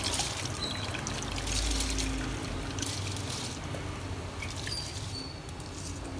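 Uncooked rice poured into a pot of boiling stock while making yakhni pulao, a steady rushing patter and trickle over bubbling water, close and continuous with no talk.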